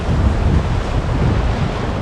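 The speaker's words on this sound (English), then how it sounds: "Huge Atlantic waves," Huge Atlantic Ocean waves roll in at a pier by the Douro River mouth in Porto, a loud, constant roar of surf mixed with heavy wind buffeting the microphone.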